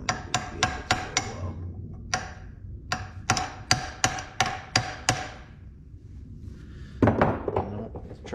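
A worn, blunt metal punch is struck repeatedly with a hammer while trying to get under a part: sharp, close metallic blows in uneven bursts, some fast and some spaced, with short pauses between.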